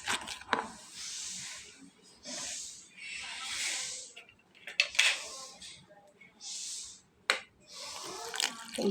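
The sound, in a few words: water being poured into flour dough mixture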